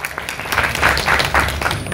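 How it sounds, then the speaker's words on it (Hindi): Audience applause at the Mrs Navi Mumbai 2020 pageant finale, a short burst of moderate clapping from a crowd, steady throughout. "कमान जोरदार ताली वाजवा असते"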